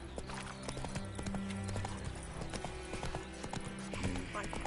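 Roach, the horse in The Witcher 3 video game, clip-clops with steady hoofbeats under a dense game soundtrack and ambient noise, and a brief neigh breaks through.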